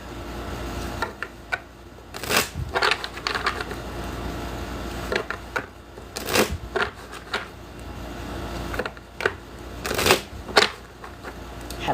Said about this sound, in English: so that you can actually see the cards as I shuffle